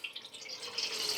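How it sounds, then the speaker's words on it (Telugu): Water poured into a cooking pot to start sugar syrup, a short, steady splashing stream that swells slightly toward the end, close and fairly quiet. "ఒక 3/4 లీటర్ పోద్దామండి వాటర్."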